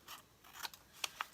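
Scissors trimming a piece of paper shorter for a stacked project, a few quick crisp snips in succession, close and fairly quiet, with no talking.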